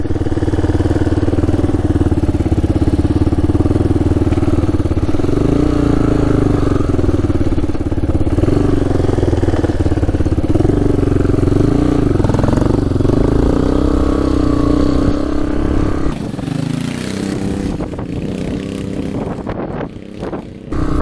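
A Yamaha Warrior ATV engine running in first gear after repair, a loud, steady mid-pitched drone with rising and falling revs that rumbles on for about twenty seconds, close by.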